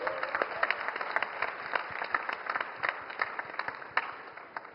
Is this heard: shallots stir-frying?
no